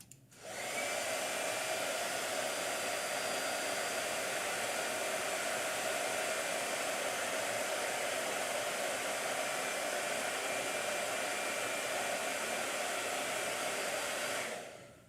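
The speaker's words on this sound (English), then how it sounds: "Okay, blow dryer." Blow dryer running steadily on paint in a sketchbook, a close, constant whooshing roar that switches on, holds for about fourteen seconds, then cuts off.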